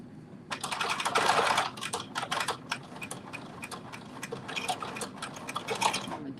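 A sewing machine runs a short back stitch through fabric, giving rapid mechanical ticking in bursts that pause and resume, fairly close and steady, with no talking.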